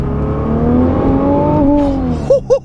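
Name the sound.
Nissan GT-R engine revving on downshift to second gear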